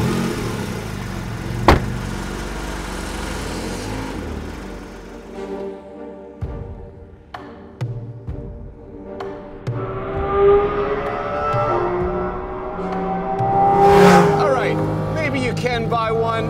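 A Porsche Cayman GT4 RS from 2022 on a racetrack, its engine note rising and falling through revs, with a loud sweeping climb near the end as voices talk over it.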